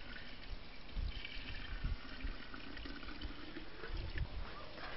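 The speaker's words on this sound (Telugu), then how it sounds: "పశువుల మూత్రం పోసుకోవాలి." Cattle urine pours steadily into a pot holding cattle dung, a continuous liquid splash and trickle with soft low thuds, close to the microphone.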